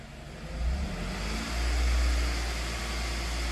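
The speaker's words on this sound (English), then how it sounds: "I'm just going to give it gas slowly." A Toyota engine with a lean-running fault rises slowly in revs as gas is eased on, giving a steady low hum that swells a little in the middle, heard close and with no talking.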